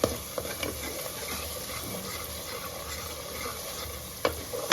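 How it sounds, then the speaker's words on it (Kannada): A ground paste fries in a pan for keema biryani and is stirred. There is a steady close sizzle with occasional scraping knocks from the spoon. "ಹಸಿ ಹೋಗೋವರೆಗೂ ಫ್ರೈ ಮಾಡ್ಕೋಬೇಕು."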